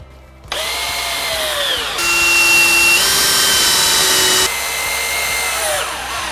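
A power drill bores pilot holes into oak bench staves, with a loud whirring spin-up that runs steadily, rises in pitch and strain as the bit bites into the wood, then eases and winds down. No voices are heard.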